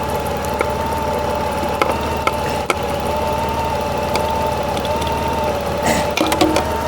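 A car engine idles steadily at operating temperature, holding a constant, close hum with a few faint clicks on top and no talking.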